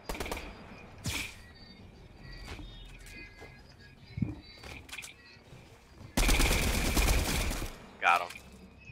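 Gunfire crackles through a Fortnite battle royale match as scattered single shots and short bursts, ending in a longer loud sustained volley near the close, under occasional voices and game noise.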